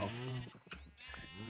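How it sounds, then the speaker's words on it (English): Sheep in the Minecraft video game bleat in two or three wavering calls, close and clear, with a short pause between them. "These sheep have an obsession with trying to get to Frank, though"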